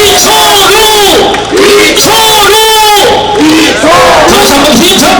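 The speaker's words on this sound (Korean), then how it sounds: "다시 한번 힘찬 박수 함성 부탁드립니다." An election campaign rally crowd for a provincial governor candidate in Yeongdeok shouts and chants loudly in rhythmic bursts, the massed voices dense and continuous with cheering swelling throughout.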